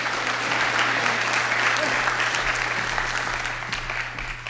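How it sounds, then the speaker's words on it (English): Applause fills a campus auditorium at a summer institute as an audience welcomes someone speaker, dense steady clapping, loud and close, with a low hum underneath, tapering slightly toward the end. "So please give her a round of applause"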